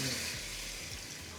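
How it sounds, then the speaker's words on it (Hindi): Water poured into a cooking pot while a Punjabi chhit dish is prepared, giving a steady, fairly loud rushing hiss over a low background rumble that lasts the whole moment. "इसमें पानी डाल दिया"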